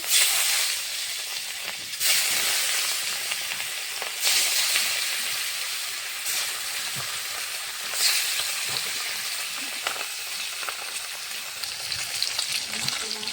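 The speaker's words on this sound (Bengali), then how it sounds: "মেখে রাখা মাছগুলো ভেজে নেব।" Steady loud sizzling hiss of marinated rohu fish frying in hot oil, continuous throughout with small crackling pops and a few brief surges.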